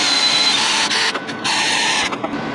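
A drill cuts through broken studs in an exhaust manifold, a loud, close, continuous grinding whine with brief dips in pitch and intensity as the bit works through the metal.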